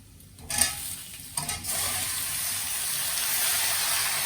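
Prawns and vegetables hit a pan of cooked onions and start frying with a steady, close sizzle after a few brief stirring clatters, the hiss holding loud and even to the end.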